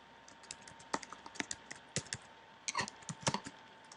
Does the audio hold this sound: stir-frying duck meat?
no